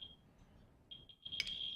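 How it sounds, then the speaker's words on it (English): In a lecture hall, a standard household smoke detector sounds a thin, high-pitched electronic tone, first held, then in short repeated chirps ending in a louder burst, faint and somewhat distant. "This is a standard smoke detector."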